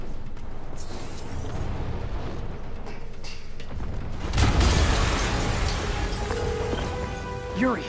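A deep, rumbling blast in the video game Marvel's Spider-Man erupts partway through over a constant noisy background, with a heavy low boom and crackling debris fading afterward.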